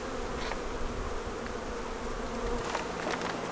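Honeybees buzzing steadily around a beekeeper working an open hive topped with honeycomb, a close, continuous insect drone with individual bees flitting past.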